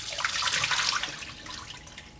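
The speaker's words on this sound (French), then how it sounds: "mes nouilles soba ont cuit, donc je vais pouvoir tout simplement les égoutter." Cooked soba noodles are drained, with water pouring and splashing into a sink or colander. It is loud at first and then tapers off, close and alone.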